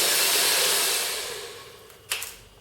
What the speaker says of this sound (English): you really need a hot hair dryer, very hot hair dryer